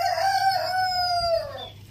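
A rooster crowing near a hut, one long, loud cock-a-doodle-doo that holds steady and then drops in pitch and fades at the end, heard alone and close.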